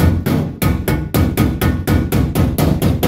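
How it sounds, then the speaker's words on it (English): Repeated hammer blows on welded metal hoops for a sandblast cabinet, about ten sharp, loud, evenly spaced strikes in a steady rhythm, close up with no talking. "expand it with a hammer"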